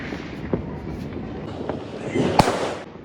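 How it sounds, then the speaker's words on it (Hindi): Scattered Diwali firecracker pops and bangs in Noida, a few sharp bursts with one louder crack, over a steady background rumble of distant fireworks. "भाई पटाखे बैन हटने के बाद भी इतने कम पटाखे फूट रहे हैं"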